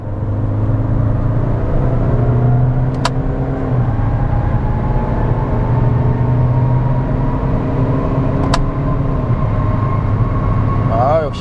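A 2.0 diesel Kia Sportage of the fourth generation accelerates hard through paddle-shifted gears, its engine drone rising steadily, with two sharp shift points and a constant loud road and cabin rumble underneath.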